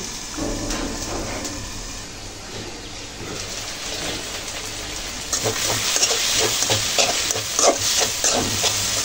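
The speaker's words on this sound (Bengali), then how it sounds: "সবজিগুলো ভালো করে কষে নিতে হবে" Tomato, potato and carrot are stir-fried in a pan for a boal fish curry, a steady close sizzle that grows busier halfway through as a utensil scrapes and stirs repeatedly.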